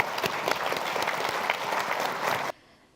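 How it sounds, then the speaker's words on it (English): Audience applause fills a gala awards event, dense and steady clapping from a large hall that stops abruptly near the end, leaving quiet room tone. "Can we get another round of applause, please?"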